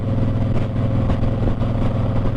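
A 2012 Harley-Davidson Heritage Softail Classic engine runs underway, a steady low rumbling drone with a loping pulse and some wind noise, close and continuous with no speech.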